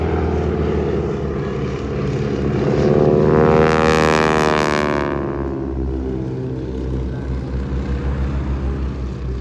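A propeller aircraft flies a display at a seaside airshow with wingwalkers on board, its engine drone swelling loudly as it passes close by, then fading gradually into a steady distant hum.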